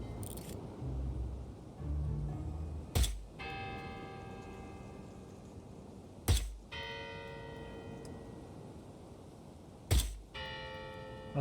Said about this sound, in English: these bells, they make different noises